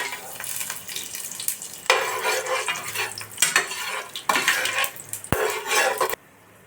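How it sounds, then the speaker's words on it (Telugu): Biryani masala spices frying in hot oil in a pan, with steady sizzling and repeated scrapes and clinks of a spoon stirring against the metal, ending abruptly. "మసాలాలు బాగా ఫ్రై అయినాయి కదండి"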